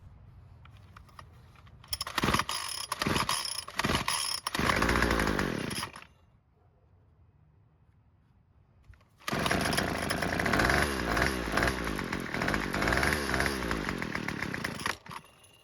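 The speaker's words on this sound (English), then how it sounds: "move the choke lever to position 1 and then pull the rope no more than 5 times" Small engine is pull-started with its rope, choke set, and runs loudly for about four seconds before cutting out; after a quieter pause it roars back and runs steadily to the end.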